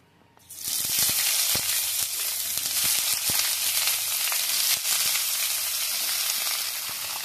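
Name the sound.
cauliflower stems and potatoes frying in oil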